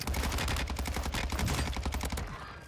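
Dense, continuous gunfire from Warzone 2, rapid automatic bursts packed tightly together with loud cracks throughout, easing off slightly toward the end.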